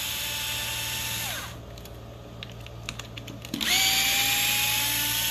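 Power drill backing screws out of the linkage on a TLR 8ight-X RC car: a steady whine spins down, leaving a gap of small ticks, then whirs back up to speed. Close and moderately loud, with no talking.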